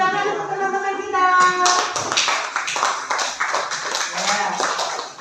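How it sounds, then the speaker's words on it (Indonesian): A class of students claps together in a classroom, a burst of quick overlapping hand claps that follows a spoken voice and continues near and fairly loud for several seconds. "Tepuk tangan untuk teman-teman kita."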